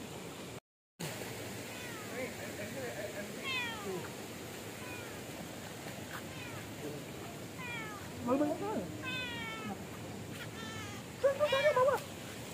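A cat meowing outdoors by a riverside during breakfast, several drawn-out meows spread through the stretch, some louder and nearer, with people talking in between.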